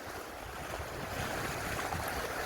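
Sea waves wash along the shore while fishing, a continuous broad rumbling surf mixed with gusting wind buffeting the microphone, with no voices.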